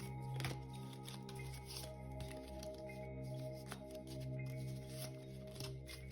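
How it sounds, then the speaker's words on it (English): Cards from the Hand of Cthulhu board game are shuffled, rotated and flipped, giving a soft, continuous papery rustle over a steady low background hum, with no talking. "you'll shuffle and rotate all the cards, shuffling and rotating as you do, flipping."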